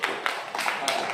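A classroom audience gives a short burst of hand clapping, steady and fairly close, a dense patter with a few sharper claps rising out of it.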